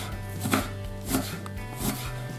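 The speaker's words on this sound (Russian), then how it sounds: "Режем сначала тонкими пластинками." A knife slices meat into thin plates for belyashi, Tatar fried meat pies, with three soft, evenly spaced cuts on a board over a steady background hum.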